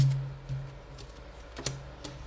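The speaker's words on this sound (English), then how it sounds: "Let me shuffle this really well." Tarot cards are shuffled close by in a quick, papery riffle of soft ticks and flicks, with a few sharper snaps, fairly quiet and without talk.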